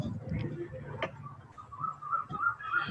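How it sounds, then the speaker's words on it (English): Birds chirp faintly outdoors, short high calls repeating in the distance over a quiet room with a soft ticking sound. "Someone is sitting near outdoors and able to hear birds chirping and stuff."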